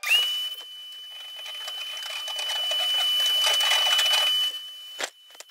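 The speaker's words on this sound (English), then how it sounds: "I'm gonna vacuum one more time" A vacuum cleaner fitted with a dryer lint attachment runs with a steady hissing roar and a high whine, swelling gradually before cutting off abruptly near the end, with no talking.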